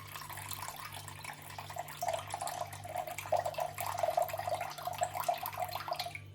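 Water runs from a tap or is poured in a steady stream for sourdough bread dough, with soft splashing and trickling that continues for several seconds at close range over a faint low hum.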